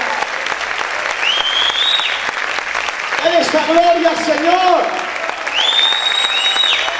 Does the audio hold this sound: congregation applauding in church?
yes